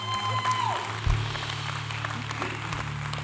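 A church congregation applauding and cheering at a Sunday service, a short burst of dense clapping from a crowd heard close and fairly loud.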